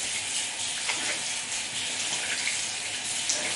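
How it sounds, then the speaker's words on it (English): Water from cupped hands splashes and swishes over a face during rinsing at a sink, a continuous close, splashy wash with small spikes, no talking. "when I'm rinsing, just take the water and swish"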